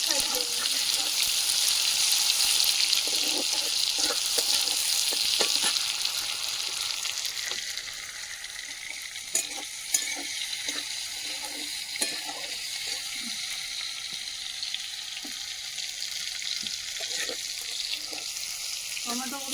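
Tomatoes frying lightly in a pan with a steady hiss of sizzling oil, loudest at first then settling lower, with occasional stirring clinks and soft background voices.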